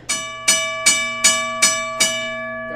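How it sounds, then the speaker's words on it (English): A railway crossing bell strikes in a steady, even rhythm, six clangs about every half second, each ringing into the next over a low constant hum. "This is your crossing bell."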